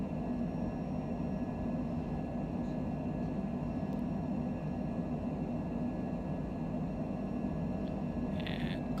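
A steady, unbroken aircraft engine drone at climb power in Microsoft Flight Simulator, a constant broadband rumble at low-moderate level with no talk.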